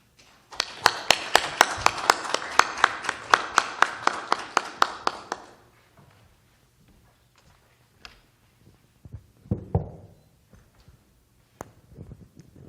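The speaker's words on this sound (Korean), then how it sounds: "여러분들이 박수로 환영해 주시면 고맙겠습니다." A church congregation claps in welcome as the guest pastor comes forward at a Lent special prayer service. The applause is brisk and steady for about five seconds, then stops, leaving a few faint knocks and shuffles in a quiet room.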